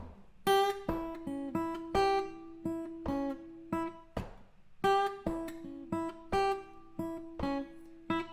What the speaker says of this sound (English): and now the rhythm and the riff sounds like this